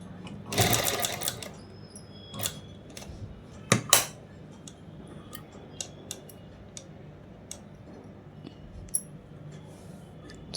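A sewing machine puts small stitches into the neck design of a blouse with slow, careful short bursts and scattered clicks, close up and with no talk.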